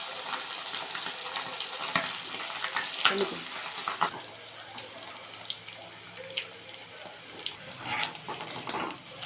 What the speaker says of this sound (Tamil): இப்போ நல்லா எண்ணெயில் போட்டுக்கலாம் ஒன்று ஒன்றா.